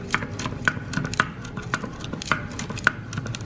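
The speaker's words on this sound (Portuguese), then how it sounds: "Aqui, ó, eu vou mexer ele, bater ele aqui." Passion fruit mousse mixture being beaten by hand with a whisk or spoon in a bowl, giving a steady series of sharp close taps and clicks at a brisk, fairly even rhythm.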